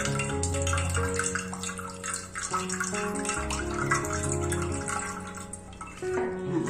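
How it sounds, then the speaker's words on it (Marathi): Ground coconut liquid strains into a vessel, making a close, continuous trickle and splash of pouring liquid with a gurgling swell near the end. "आता मी खोबरं बारीक करून ठेवलेलं वाटून घेतलेलं होतं ते आता मी गाळते"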